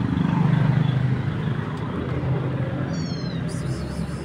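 A kitten meows in a neighbor's backyard, a few soft mewing calls near the end over a low rumble of passing road traffic, with a quiet voice nearby.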